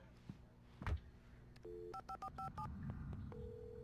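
In the video game Alan Wake, a muffled thump, then a quick run of telephone keypad beeps, each tone short and distinct, followed by a steady held tone, all fairly quiet.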